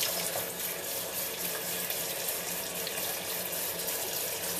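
Water runs continuously into a sink during a puppy's bath, a steady, even splashing rush with no break.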